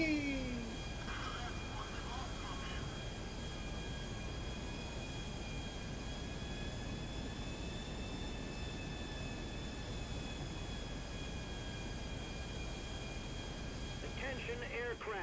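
A jet plane's engines drone steadily in flight in GTA 5, a continuous broad roar with faint shifting tones, and brief voice sounds near the start and end.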